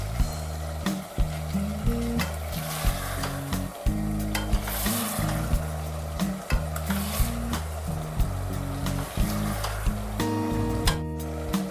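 Raw garlic chutney paste is stirred into vegetables with tomatoes frying in oil for undhiyu, giving a steady sizzle under repeated scraping stirs and clanks of a spoon against the pot, close, with no talking.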